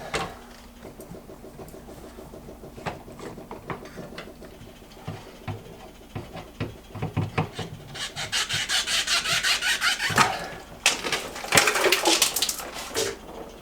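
A pipe wrench working loose a plastic reverse osmosis filter housing, giving scraping, grinding rubs and creaks that grow louder and more forceful in the second half, close up with no talking.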